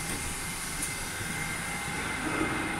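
A Kazan metro train standing at the terminal station, a steady rumbling hum of the carriage with faint hiss, moderately loud and unbroken, no voices.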